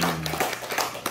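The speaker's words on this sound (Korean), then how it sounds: "여러분 큰 박수 한번 부탁드리겠습니다." A short burst of applause from a small group at a news reporters' team get-together, following an introduction: scattered hand claps that fade within about a second.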